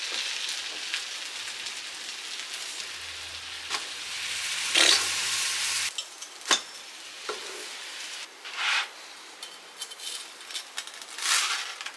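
A buttered grilled cheese sandwich on a warming griddle, a soft intermittent sizzle with scattered crackles and occasional louder bursts of frying and scraping, no voices.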